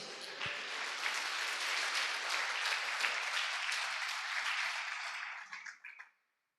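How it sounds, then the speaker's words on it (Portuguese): A church congregation at a worship service applauds for Jesus with sustained, even clapping from many hands, moderately distant, lasting several seconds before tapering off and ending abruptly. "Um aplauso a Jesus."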